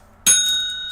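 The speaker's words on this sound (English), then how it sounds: "give him a bell ring" A single bright metallic bell ring struck once, sharp onset ringing with clear tones that sustain and slowly fade, close and alone.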